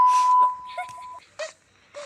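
A single steady electronic bleep holds for about a second, overlapping speech, followed by a few short spoken bursts.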